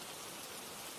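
Steady rain falling, a dense, even hiss of drops spread across the whole second with no breaks or voices.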